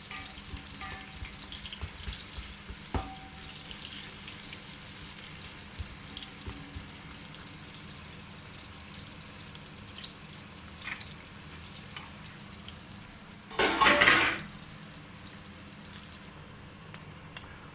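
Onions fry in a pot for chicken biryani, a soft continuous sizzle throughout with a brief loud burst of hissing and stirring near the end, close by with no speech.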